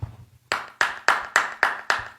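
Six crisp claps in an even, steady rhythm, each a sharp close slap with a short tail, coming from a church gathering or sermon setting; no voices over them.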